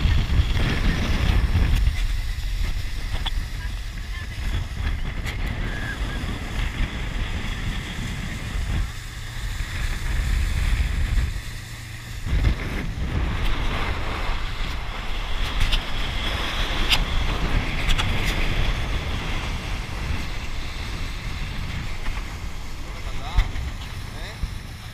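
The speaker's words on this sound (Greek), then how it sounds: "Όταν κάνει αυτό το τραβάει το σκάφος." Motorboat pulling on the sea off Ierapetra, a loud engine roar mixed with wind buffeting and rushing water, surging and easing at intervals, with people talking over it.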